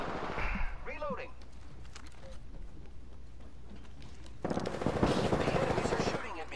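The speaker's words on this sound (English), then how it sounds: "The enemies are shooting at me." Rapid enemy gunfire in a PS4 game comes as bursts of machine-gun fire, moderate at first and heavier toward the end, mixed with talking voices.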